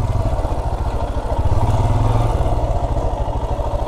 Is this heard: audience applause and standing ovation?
no